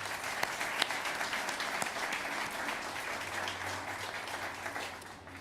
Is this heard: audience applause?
yes